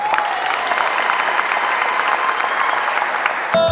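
A wedding audience applauds the arriving couple with dense, steady clapping that holds at full strength and then cuts off abruptly.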